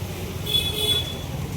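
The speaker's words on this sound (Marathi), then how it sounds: "ट्रॅफिक जाम झाले पूर्ण" A traffic jam at night near a market: a steady rumble of idling vehicles and road noise with a thin car horn sounding briefly in the middle, at moderate distance.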